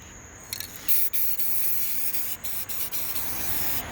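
A spray can applies primer in short, close hissing bursts with brief gaps between passes and no talking.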